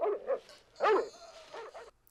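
Dogs barking in a tense chase scene from the 1982 action film Rambo First Blood, a few sharp yapping barks and whimpers close by, separated by brief gaps, with no talk.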